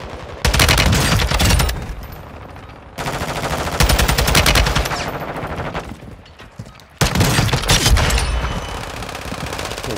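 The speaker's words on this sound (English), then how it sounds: "I'm gonna try to test out this new gun that I just bought, too" Rapid automatic gunfire from a newly bought gun in Warzone, loud and close, fired in three long sustained bursts separated by brief pauses.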